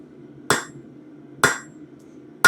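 Hot steel is struck on an anvil while bolt tongs are forged, with three sharp, ringing hammer blows about one second apart over a low background hum.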